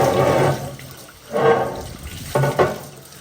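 Water is poured over a Dutch oven lid to rinse off ash outdoors by a creek, in three splashing bursts separated by quieter pauses.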